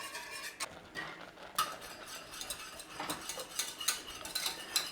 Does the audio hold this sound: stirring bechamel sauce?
yes